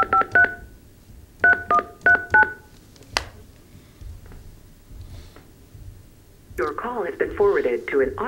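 Touch-tone keypad beeps dial a cell phone in short spaced bursts, followed by a single click and then a voice speaking.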